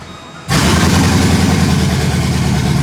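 Old, rough pickup truck engine revved hard after starting, jumping from a low idle to a loud, steady, throaty roar that holds close and unbroken to the end.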